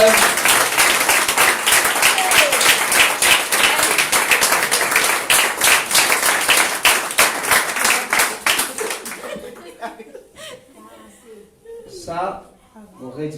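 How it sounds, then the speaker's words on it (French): A church congregation claps rhythmically and loudly in unison for about nine seconds, then the applause breaks off into scattered claps, murmurs and voices. "Nous acclamons encore le Seigneur pour cela."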